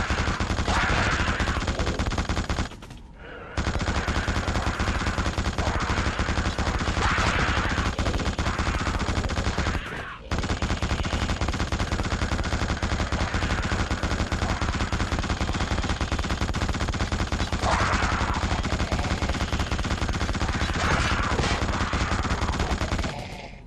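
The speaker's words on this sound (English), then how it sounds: "Now jump on the machine gun and we'll be attacked by a lot of Slayers." A mounted machine gun in the horror shooter The Suffering fires in long, loud, relentless bursts that fill the whole stretch, broken only by two brief pauses in the stream of shots.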